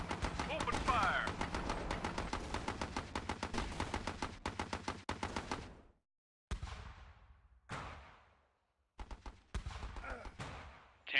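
Rapid gunfire from combat units in the video game Battle Islands Commanders, dense bursts of shots for several seconds, then short separated volleys with gaps of silence, under brief voiced unit lines.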